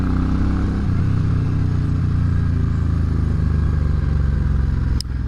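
A Suzuki Intruder V800 V-twin motorcycle rumbling on a test ride, a loud, deep, steady engine throb with a rough low pulse, heard up close with a brief click near the end.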